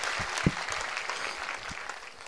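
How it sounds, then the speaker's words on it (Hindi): Audience applause at a Bageshwar Dham Sarkar question-and-answer gathering on Hanuman worship, a dense, steady patter of many hands clapping throughout, with a brief louder thump near the start and no talking over it. "पहले तो उनकी सेवा के लिए ताली बजाओ जोरदार"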